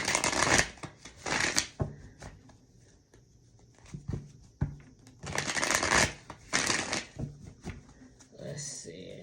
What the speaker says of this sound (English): Let's see, I feel like I want to do one more good shuffle.